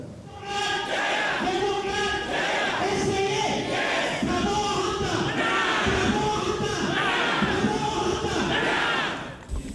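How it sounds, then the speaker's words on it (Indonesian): Hundreds of Democrat Party members chant and cheer in support of Prabowo-Hatta, a dense, loud crowd roar of rhythmic shouted slogans that fills the whole stretch with little variation. "Sorak-sorai dukungan kepada pasangan Prabowo Subianto dan Hatta Rajasa ini dikumandangkan ratusan anggota Partai Demokrat."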